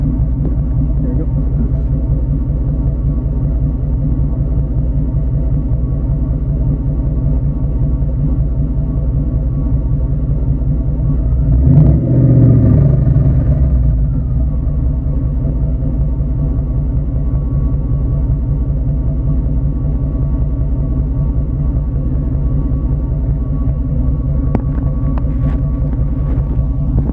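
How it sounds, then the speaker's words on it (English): A 2004 Hemi engine idles with a steady low rumble, and partway through a brief thicker burst of exhaust puffing rises as it decelerates before the drone settles back. "For some reason, when it decelerates, it just sounds like a bunch of air coming out."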